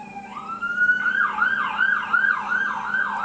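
A loud emergency vehicle siren wails in rapid rising and falling cycles, close and continuous, with no voices over it.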